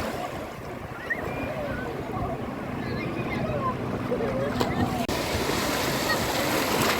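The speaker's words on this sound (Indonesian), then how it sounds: "Ombaknya lumayan kuat," Steady rush of strong sea waves breaking on Ulee Lheue beach in Banda Aceh, fairly loud and continuous, with faint chatter and activity in the background.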